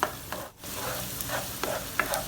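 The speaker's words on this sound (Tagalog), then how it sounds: "Haluin lang hanggang sa maamoy natin ang aroma at maging brown na ito." Garlic and onion frying in a pan for pork giniling, a low steady sizzle with several spoon strokes scraping through, one brief pause near the start, close and without talk.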